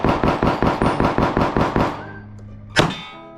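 A Glock 45 and a Taurus G3 pistol are fired one-handed in a rapid string of about ten sharp, evenly spaced shots, then one final louder shot after a short pause.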